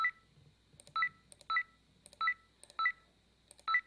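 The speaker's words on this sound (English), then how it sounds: "this is going to be our score increase sound effect" A higher-pitched score increase sound effect in a Scratch Flappy Bird game repeats as short, bright electronic double beeps, about six evenly spaced bursts, clean and alone against near silence.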